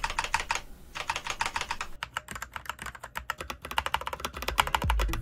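Typing on a budget mechanical keyboard fitted with brown switches, a steady run of soft, muffled keystroke clicks with a brief pause, then faster bursts, close up and alone with no voices.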